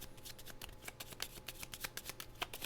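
A deck of board game cards is shuffled close by, a quick run of crisp riffling flicks and taps, quiet and with no talking.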